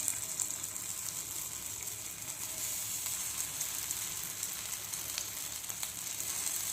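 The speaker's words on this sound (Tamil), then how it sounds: "இப்போ இதை ஷாலோ ஃப்ரை பண்ணலாம்" Aloo tikki potato patties shallow frying in oil in a pan over medium heat, a steady, even sizzle and crackle with occasional small pops, close and continuous with no talking.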